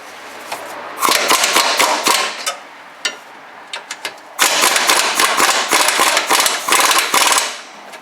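A 14 mm socket wrench working the steering rack bracket bolts on a 2002 Subaru WRX wagon, giving rapid ratchet clicking in two long bursts with scattered metallic taps between, close and loud.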